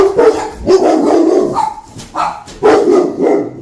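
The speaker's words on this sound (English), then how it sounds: "They always bark when UPS comes." Dogs barking at a delivery, loud close barks in bursts with brief pauses over about three and a half seconds, no talk.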